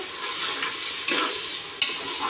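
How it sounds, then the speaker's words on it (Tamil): Ginger and garlic sautéed with salt in a pan for egg biryani, a continuous close sizzle with stirring scrapes and two sharp knocks of the spoon, no voices. "இஞ்சி பூண்டு சேர்த்துனதுக்கப்புறம் நல்லா வதக்க வேணும்"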